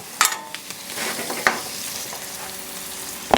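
Onions and chorizo fry on a Blackstone griddle in a steady close sizzle, with sharp spatula taps and scrapes now and then.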